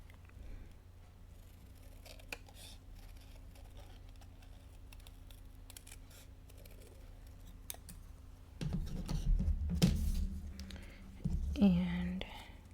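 Scissors snipping through paper while cutting out a handmade Father's Day card with a tie shape, quiet close snips at first, then louder rustling and handling noise toward the end, with soft speech throughout.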